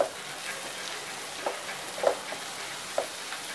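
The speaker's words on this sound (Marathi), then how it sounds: "भाजी व्यवस्थित मिक्स करून घ्यायची" Vegetables with salt being stirred in a frying pan while preparing egg fried rice, a soft steady sizzle broken by sharp spoon scrapes and clinks at irregular intervals, alone without talk.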